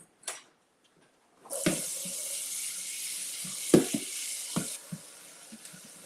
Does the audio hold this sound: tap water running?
yes